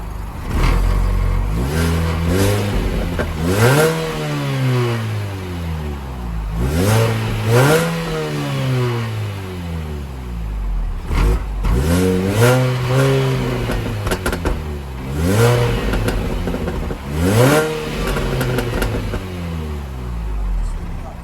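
A Mini Cooper S R53 with a newly fitted exhaust revs repeatedly, each blip rising sharply then falling back to idle, about five close, loud revs in a steady rhythm.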